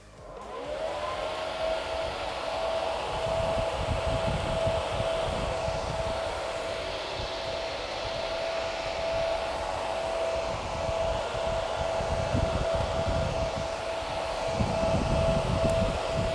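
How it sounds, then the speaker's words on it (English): Loud, steady whooshing of spinning computer fans fills the space, with a constant high whine riding over the broad rushing noise. "Wow, those are some loud fans."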